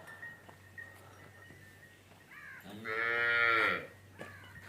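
Quiet barn ambience with cows and buffaloes tethered, then a loud, drawn-out moo rises nearby and fades, with a softer low bellow just before it.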